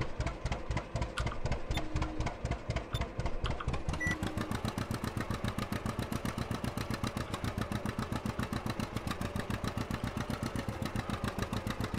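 Ursus tractor engine in a video game runs steadily at a fast, even idle-like chug, loud and continuous with no talk over it.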